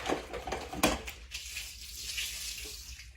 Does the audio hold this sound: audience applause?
no